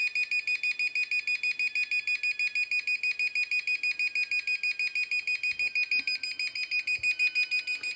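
An APC UPS sounds its replace-battery alarm, a loud, rapid train of high, evenly spaced beeps repeating nonstop, with faint handling knocks near the end and no speech.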